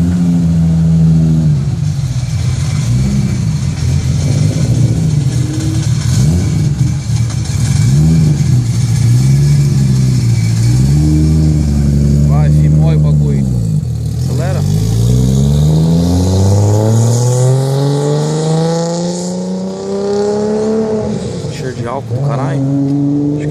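A Toyota Supra engine revs repeatedly, its pitch climbing and falling in long rising sweeps as it accelerates, loud and close, with someone talking over parts of it.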